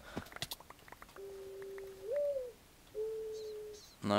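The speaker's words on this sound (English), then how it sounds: "Oh, bird." Within a video game, a bird gives two sustained, steady whistling calls after a flurry of short clicks and taps, moderately loud against quiet background.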